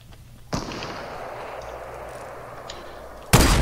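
Two sharp gunshots ring out in the video game Fortnite, one near the start and one near the end, with a low, steady rumble between them and no talking over them.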